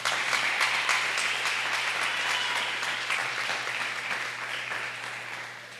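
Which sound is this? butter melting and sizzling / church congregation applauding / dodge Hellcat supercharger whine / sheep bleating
church congregation applauding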